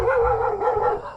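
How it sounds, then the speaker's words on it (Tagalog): A dog barks close by in the early morning, one sustained, loud, strained bark or yelp carrying for about a second. "Maingay ang aso."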